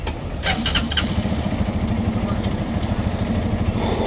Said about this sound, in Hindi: मैं इसी बाइक चालू कर रहा